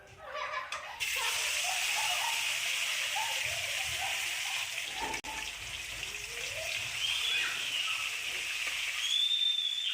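Food frying in hot oil during home cooking, a loud, steady sizzling hiss that runs nearly unbroken from start to finish, with faint voices now and then underneath.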